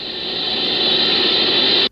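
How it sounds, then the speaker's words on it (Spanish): Background interference from a Horn Antenna radio telescope: a steady, loud hiss of broadband static that holds evenly, then cuts off abruptly. "Pero la Horn Antenna que utilizan recibe constantes interferencias."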